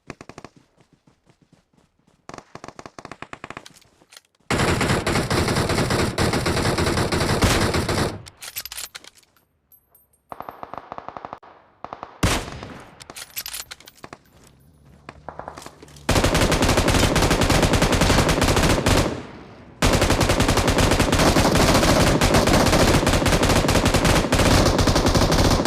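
Machine gun fire in the video game PUBG, long loud sustained automatic bursts alternating with short pauses and scattered single shots.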